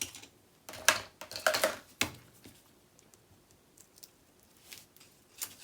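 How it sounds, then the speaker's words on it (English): Adhesive backing peeled off paper on a Graphic 45 Lost in Paradise mini album, heard as a few close crackly tearing bursts followed by faint rustles and small taps, with no talking. "Okay, I'm going to peel this off."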